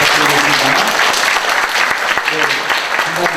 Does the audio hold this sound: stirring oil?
no